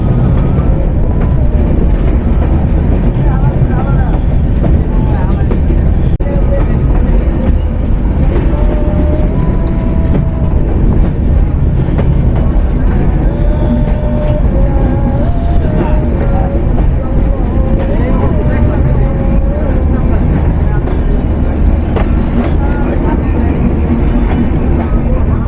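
Madhumati Express train running between Dhaka and Rajshahi near Kalukhali Junction, a steady loud rumble of wheels and carriage noise throughout, with faint tonal squeals rising and falling midway.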